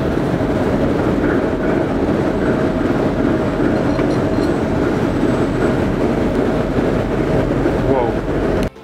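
A locomotive moves through the Kraków Płaszów railway depot with a loud, continuous rumble and rolling metallic noise, steady throughout before cutting off abruptly at the end.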